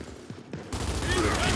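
Loud continuous gunfire from the shooter game Gears 5 erupts after a short stretch of quieter sound and keeps roaring without a break, close and dense.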